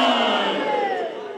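A crowd at a religious celebration for 13 Rajab roars a slogan in unison, a loud sustained shout of many voices that slowly fades.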